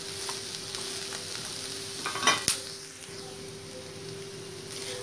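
Grated dried coconut is stirred and roasted in a pan, giving a soft steady sizzle with faint scraping strokes and one brief louder clatter midway, quiet and with no voices.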